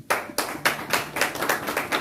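Hands clap in a quick, uneven burst of about eight claps, close and fairly loud, from a small church audience during a sermon rather than a large crowd.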